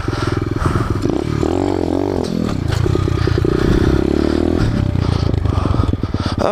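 A pit bike's engine revs hard and steadily through a wheelie on gravel, a loud, close, continuous buzzing drone with rising and falling pitch, accompanied by clattering and scraping from the loose surface.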